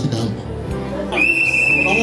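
A whistle blown at a civil wedding ceremony gives one sustained, piercing, steady tone lasting about a second, with crowd chatter and babble running underneath throughout.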